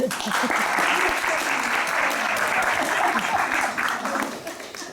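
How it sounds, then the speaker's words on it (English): Audience applause as a volunteer comes down to the stage at a Halloween-season show: a sustained, even wash of clapping from a large crowd, loud and continuous, easing slightly toward the end. "A round of applause"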